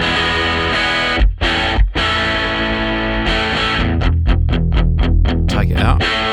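Distorted electric guitar miked with an added DIY sub bass microphone for extra low-end fullness: thick sustained chords with two brief dropouts, then choppy palm-muted chugs, loud and close.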